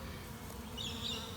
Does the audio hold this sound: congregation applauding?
no